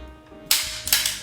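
Two sharp carbine rifle shots fired during shooting practice, one at mid-clip and another close behind, each a loud near crack with a short ringing tail.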